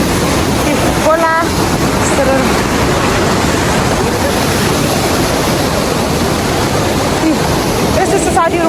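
A river stream rushing loudly and steadily nearby, a thick continuous wash of flowing water with faint voice fragments and whistle-like tones briefly surfacing above it.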